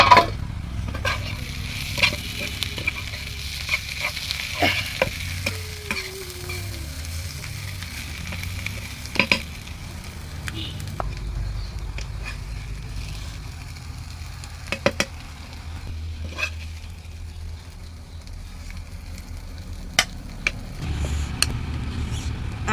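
Banana flower being stir-fried with spices in a pan: a continuous sizzle with occasional stirring scrapes and clinks, close and fairly loud, lasting throughout.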